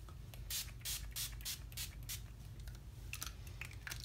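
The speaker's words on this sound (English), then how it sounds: "And just spraying that on my face." A series of short, sharp bursts of makeup setting spray sprayed onto a face, several quick hisses in a row, close by, with a low hum underneath.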